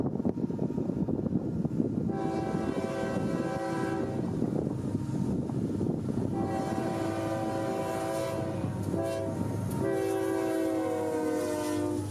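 A freight train's locomotive horn, from a Florida East Coast GE Evolution Series locomotive, blares in long chords, pausing and sounding again over the steady rumble and clatter of passing rail cars.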